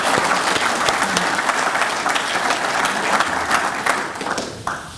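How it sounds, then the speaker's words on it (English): Audience at a Tourism Fiji industry day applauding the organisation's chairman and new CEO, a full, continuous round of clapping from a large room that thins out near the end. "So, ladies and gentlemen, please, can a big round of applause, please, for them."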